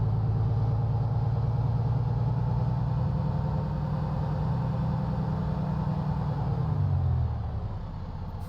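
Truck engine in American Truck Simulator: a steady, loud low drone with a rising rev, then dropping off sharply near the end, with no talking.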